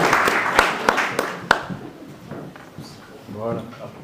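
A few scattered hand claps from an audience at a youth, sports and community engagement medal ceremony, with a voice talking over them before the clapping fades out.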